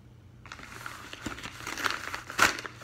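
Plastic packaging of an anime figure crinkles and rustles close by, building from soft handling into a few louder crackling bursts near the end, with no talk.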